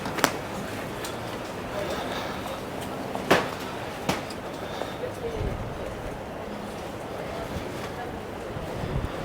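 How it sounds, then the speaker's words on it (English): Steady wind rumbles and buffets the microphone throughout, with occasional sharp gusts and knocks, under an outdoor wash of broadband noise on the Maspalomas promenade, Gran Canaria. "It's pretty windy today"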